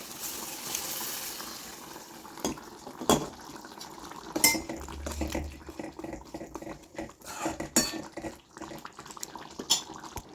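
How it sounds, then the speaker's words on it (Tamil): Fried sun-dried manathakkali berries tipped into a pot of tamarind vathal kuzhambu, with close clanks and scrapes of a metal spoon and pot over a low bubbling, watery background, no talk. "இப்போ நம்மளோட வத்தல் நல்லா வறுபட்டுருச்சு. இப்போ வந்து நம்ம குழம்புல சேர்த்துக்குவோம்."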